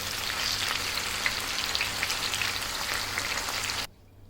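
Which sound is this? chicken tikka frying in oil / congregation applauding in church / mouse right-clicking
chicken tikka frying in oil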